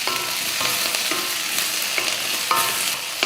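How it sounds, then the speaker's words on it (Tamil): Small homegrown tomatoes with onion and garlic sauté in a pan, making a soft, continuous sizzle with repeated stirring scrapes, close and steady, with no voices. "தக்காளி எல்லாம் நல்லா சாஃப்டாக வதங்கிருச்சு."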